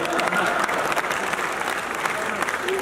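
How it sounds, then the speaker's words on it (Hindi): Audience at a Hindi comic poetry recital breaking into steady applause, a thick wash of clapping throughout with voices faintly mixed in. "और जब समझ में आए तब ताली बजाइए।"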